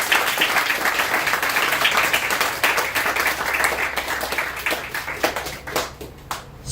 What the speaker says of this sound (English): So give him a big round of applause for himself.